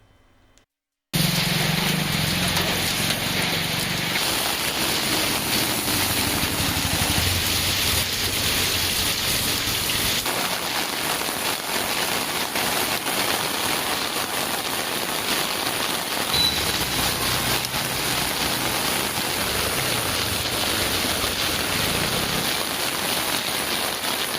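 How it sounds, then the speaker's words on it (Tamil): Heavy rain pours steadily over a town, a dense continuous hiss that holds at full strength for over twenty seconds after a brief quiet start, with no voices. "திருவாரூர் நகர பகுதி மற்றும் சுற்றுவட்டார பகுதிகளான விளமல், கண்கொடுத்த வனிதம், கட்டிமேடு, கமலாபுரம், மேட்டுப்பாளையம், மடப்புரம், நெடும்பலம் உள்ளிட்ட பகுதிகளில் இன்று கனமழை பெய்தது"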